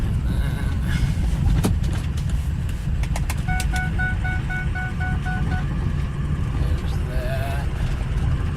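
Turbocharged car engine pulling in overdrive during a road test after a tune, heard from inside as a loud, steady low rumble with road noise throughout, a few sharp clicks, and a short run of tonal beeps partway through.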